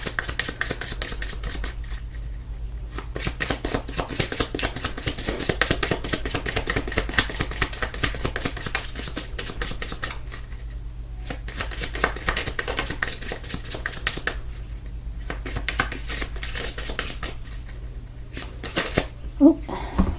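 Tarot cards being shuffled by hand in a repeated riffling, papery patter that runs in bursts with short pauses, while a person talks over it.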